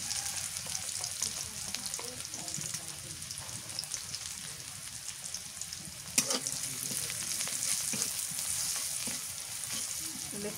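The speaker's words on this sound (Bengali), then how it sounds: "একটু লাল লাল করে ভাজি পেঁয়াজটা, লাল লাল করে পেঁয়াজ ভাজা হয়ে যাবো" Onions fry in hot oil with turmeric powder, giving a constant close sizzle and crackle, with one sharp utensil clink in the middle.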